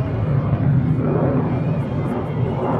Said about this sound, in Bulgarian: За минимално време, от порядъка на 2 до 3 секунди, изтребителите се качиха на височина над 1500 метра.